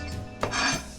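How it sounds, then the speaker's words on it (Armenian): A knife cuts seeded bell pepper into long strips for a broccoli salad, one brief crunchy cut rising over a quiet kitchen background, close and fairly soft. "կտրատենք բուլղարական պղպեղը հիմա"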